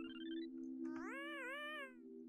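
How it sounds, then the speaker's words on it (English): Cartoonish cat meowing in the video game Yume Nikki, a single drawn-out synthetic meow with a bending pitch over a steady electronic drone and chirpy game tones, no talking. "Cat."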